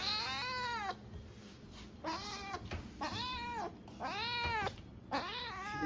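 Close, repeated meowing from an Abyssinian kitten indoors, five or so insistent drawn-out cries in a row with brief pauses between them and no voices.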